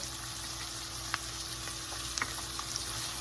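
Chicken manchurian with green peppers frying in a pan, a steady hissing sizzle throughout with a few faint clicks and pops, no talking.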